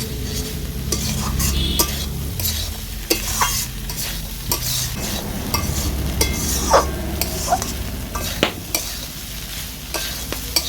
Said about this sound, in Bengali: সব কিছু আমি ভালো করে কষিয়ে নিচ্ছি।